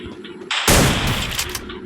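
Gunfire in the Free Fire MAX mobile game, a loud close burst of shots hitting hard after a brief lull and ringing on for over a second, with no talk.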